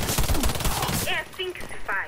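Rapid gunfire in the video game Warface, a dense burst of shots for about a second, followed by quieter game sounds and a few scattered effects.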